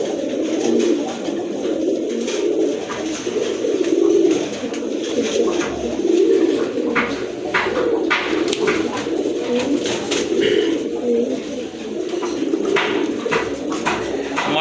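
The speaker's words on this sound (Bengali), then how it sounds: "প্রথমে আপনারা দেখতে পাচ্ছেন এক জোড়া সিরাজি কবুতর, অনেক বড় সাইজের কবুতর মাশাআল্লাহ।" A pair of large Sirazi pigeons coo in steady, repeated low throaty calls from close by. A lighter rustle and flutter runs underneath, and no one speaks.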